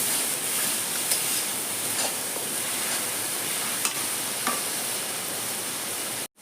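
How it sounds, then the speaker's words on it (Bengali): Onion and garlic sauté in a hot pan, a steady broad sizzling hiss with faint scattered ticks and crackles, close and even throughout before cutting off abruptly at the end. "পেঁয়াজ আর রসুনটা ভালো করে কষাবো"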